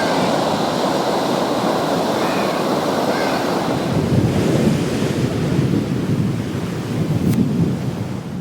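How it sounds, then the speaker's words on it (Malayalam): Rough monsoon sea surges onto the coast in loud, continuous roaring waves, with deep rumbling swells and wind buffeting the microphone throughout. "കാലവർഷം ശക്തമായതോടെ കടൽ വളരെയധികം പ്രക്ഷുബ്ധമാണ്."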